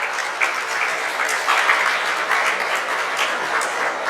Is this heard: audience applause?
yes